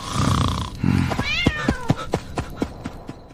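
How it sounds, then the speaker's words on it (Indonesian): A cat meows several times in quick succession after a burst of rustling noise; the meows are short, close and fairly loud, with no talking. "Kucing apa ini?"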